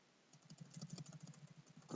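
Keys tapped on a computer keyboard while entering text into a Google Slides presentation, a quiet, irregular run of soft clicks with no speech, ending in a louder bump.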